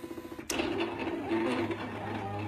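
A Silhouette Cameo 3 cutting machine runs with a steady mechanical whir after a sharp click, with the motor buzzing close by in a quiet room.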